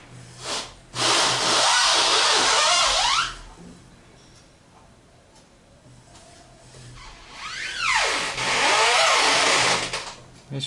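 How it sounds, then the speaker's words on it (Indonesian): A rough wheel of a Suzuki Katana fitted with an electric power steering motor judders and whirs loudly in two long bursts, separated by a quieter stretch where the grinding dies down. "Ini suara roda ya teman-teman, yang suara bergejut."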